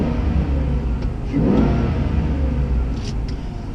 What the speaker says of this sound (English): Definitely has that nice throaty intake sound.